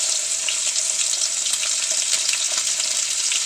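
Ginger and garlic fry in hot oil with a steady, close hiss and crackle that stays even from start to finish, with no talking.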